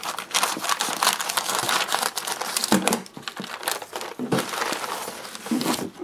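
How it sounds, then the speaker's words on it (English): Scissors snip and crinkle through a plastic gift package, a dense run of close crackling, rustling and cutting sounds with brief pauses and no talk. "So I grabbed a pair of scissors. We're going to cut this open"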